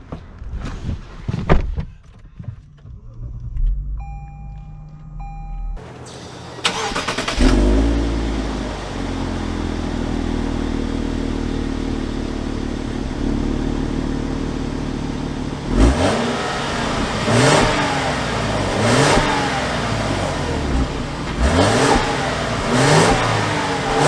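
A 2021 Lexus LS 500 F Sport sedan starts up after a few door and cabin clicks, then its engine settles into a steady idle and drive, with several clear revving surges near the end and no talking.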